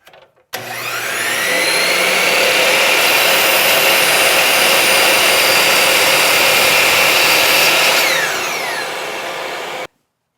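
A saw runs loud and steady for about nine seconds while cutting wooden cabinet face-frame rails against a stop block, with a whining motor and a dense rush of cutting noise before it winds down.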